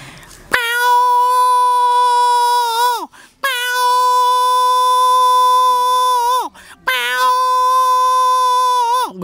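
A man imitates a peacock with his voice, giving three loud, long wailing calls of about three seconds each. Each call holds steady and then drops off sharply, with brief gaps between them.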